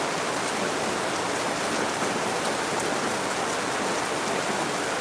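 Heavy rain falling in Lagos, a dense, steady hiss of downpour that stays constant and loud throughout, with no voices.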